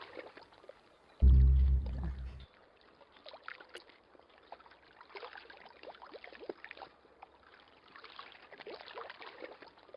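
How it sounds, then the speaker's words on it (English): Gentle flowing water ambience from a scene in Broken Sword: The Smoking Mirror, a steady soft trickling wash running throughout at low level, with a brief louder low thump early on. "So relaxing, that water sound."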